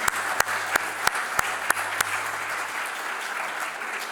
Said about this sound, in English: we're applauding you also